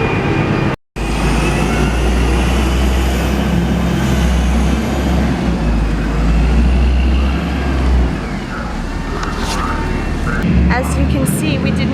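A large bus idles at a stop in Colonial Williamsburg with a loud, deep engine rumble and a brief hiss, heard up close; people talk faintly over it.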